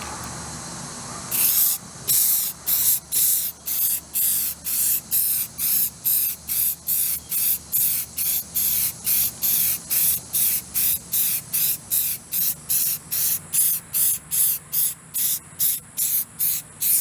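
Rust-Oleum Flexi Dip spray can being sprayed: after one longer burst comes a long run of short, evenly spaced loud hissing puffs, close and steady in rhythm, with no talking.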